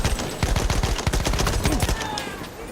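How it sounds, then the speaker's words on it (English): Battlefield 1 gunfire in a multiplayer match: rapid repeated shots in a steady burst, close and loud, with other battlefield noise underneath. "That's me shooting him where he's at."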